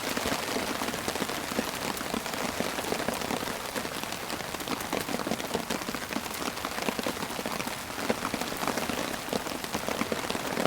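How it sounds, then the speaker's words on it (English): Heavy rain drums steadily and densely on a taut tent overhead, a loud continuous patter with no voices. "It's been raining consistently since we got here."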